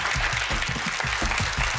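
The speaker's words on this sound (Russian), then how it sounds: "давайте поддержим аплодисментами нашу команду" At a couples' competition, the crowd keeps up steady applause for the team, layered over a regular, low, thumping beat that pulses beneath the clapping.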